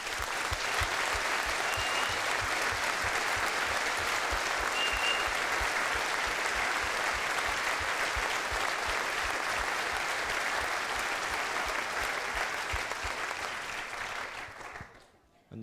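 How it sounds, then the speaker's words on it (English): A hotel function-room audience at an evening with the Bradford Bulls rugby team gives the players a long, loud round of applause, with steady dense clapping throughout that fades away at the very end. "So you know, they deserve a massive round of applause."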